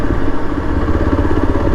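A 2024 Yezdi Adventure motorcycle engine lugging at low speed in third gear, a close, loud, steady rough chugging with uneven low pulsing throughout.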